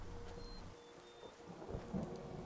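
Steady rain and low rolling thunder from the Skyrim video game, a continuous rumbling wash with a deeper swell near the end and no voices.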